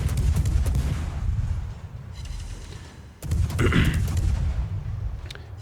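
A warship's secondary guns fire in World of Warships, a rapid series of booming shots and thuds over a heavy low rumble, with a brief lull before another close, loud cluster of blasts.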